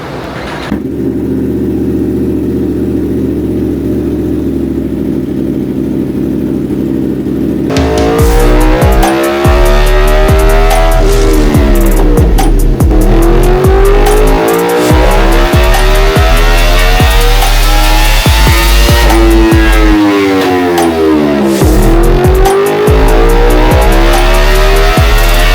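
A 2024 Yamaha R1 sport motorcycle fitted with a K&N air filter idles steadily, then revs hard again and again, its close, loud engine note climbing and falling in repeated sweeps with sharp throttle blips.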